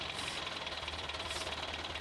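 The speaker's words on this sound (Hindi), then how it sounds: "हमारे महिंद्रा ट्रैक्टर ने इसको पार कर लिया है" A Mahindra tractor engine runs at a steady, even rumble with a slight knocking pulse, heard close and continuous during an obstacle-course show, with no talk.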